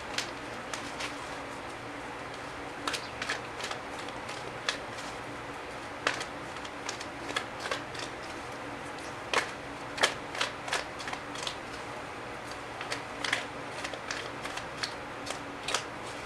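Tarot cards are shuffled by hand, a long run of irregular crisp flicks and riffling snaps, close and fairly quiet, with no talking over it.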